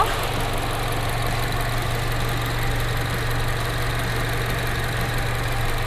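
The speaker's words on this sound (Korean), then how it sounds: "엔진 소리 일정하네요" A third-generation Mini Cooper S JCW engine idles with a steady, even low hum and a faint mechanical rattle, close by and unchanging throughout.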